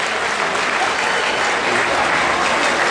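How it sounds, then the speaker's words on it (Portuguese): Steady applause from a crowd at a Japanese fashion cosplay parade at an anime event, dense continuous clapping that holds evenly throughout. "Palmas para os competidores."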